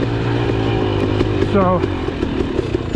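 A Beta dirt bike engine runs at low RPM under partial throttle with an uneven, gurgling tone, close by, while someone speaks briefly over it.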